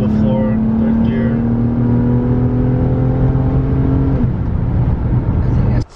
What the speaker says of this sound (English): Foot to the floor, third gear.